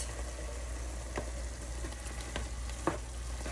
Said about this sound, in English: Let me stir that around just a little bit.